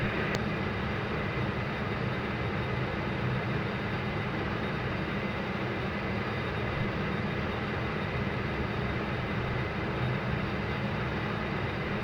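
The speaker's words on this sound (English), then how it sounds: "Clear to start the engine number 1" Turboprop engine number 1 of a Majestic Dash 8 Q400 starting up in a flight simulator, a steady, dense whine and rumble holding level throughout with no talk over it.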